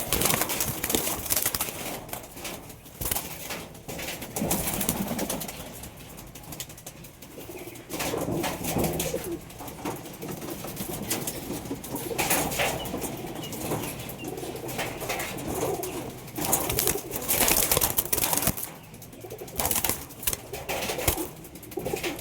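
Kamagar pigeons coo nearby, with bursts of wing flapping cutting in at irregular moments over a steady, muffled background.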